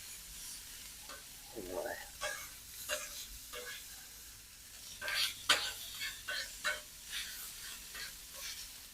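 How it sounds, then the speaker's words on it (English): Bacon cooking for smoker-baked BBQ beans sizzles as its fat renders, with crackling spits and stirring scrapes close by and someone speaking briefly over it. "Just let that go for a little bit until that bacon starts releasing some of the fat that's getting rendered out of it"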